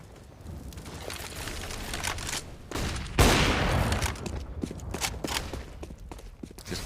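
Rapid bursts of pistol fire in a Counter-Strike esports match, many sharp cracks crowded together, with the densest volley in the middle and scattered shots before and after, no talk.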